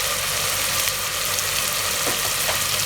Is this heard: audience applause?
no